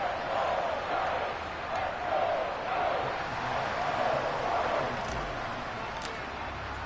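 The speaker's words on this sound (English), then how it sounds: "let me wait till the crowd shuts up" Stadium crowd roar in Madden 23, the American football video game, a steady broadband wash of fans that holds evenly throughout with faint swells, a few brief clicks near the end, and no clear voice on top.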